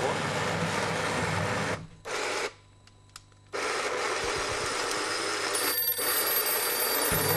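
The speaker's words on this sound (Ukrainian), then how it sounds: "І у нас вже є, є телефонний дзвінок." A telephone rings steadily in long electronic bursts, broken by a couple of short gaps, loud and close with faint background noise.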